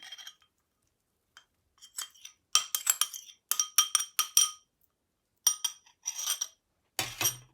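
Chickpea bread batter with onion, parsley and cheese being mixed by hand, heard as bursts of bright, rhythmic clinking of a utensil against a glass bowl, separated by short pauses.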